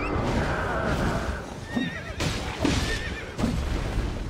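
Horse neighing and whinnying in Elden Ring, with repeated whinny calls rising over a steady mix of hoofbeats and game noise, loud and close throughout.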